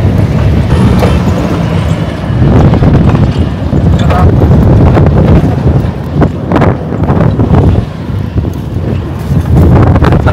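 Loud, continuous wind buffets the microphone on the lahar terrain of Mount Pinatubo, with heavy low rumbling gusts that swell and ease throughout.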